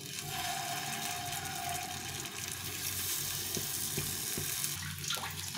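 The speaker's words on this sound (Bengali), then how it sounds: "এখানে হাফ চামচ মতো তেল দিয়ে দেবো, দিয়ে এভাবে করে সেঁকে নেব।" Chhena and capsicum tikki shallow-fry in a little oil with a steady, close sizzle that holds at an even loudness throughout, broken only by faint scraping, with no talk.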